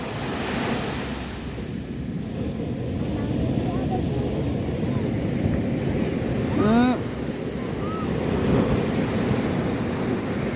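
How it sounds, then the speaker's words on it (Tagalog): Big ocean waves surge and wash continuously with strong wind buffeting the microphone, and a brief voice is heard over the roar. "Oh, the big waves."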